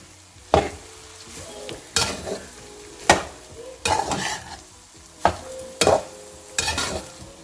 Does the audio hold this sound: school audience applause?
no